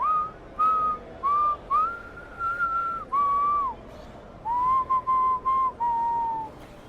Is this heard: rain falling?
no